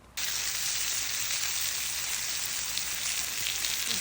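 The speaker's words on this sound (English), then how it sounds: "We're just gonna sear these." Toasted sesame-crusted ahi tuna sears in a hot pan, producing a loud, even, rain-like sizzle that starts suddenly and holds steady throughout.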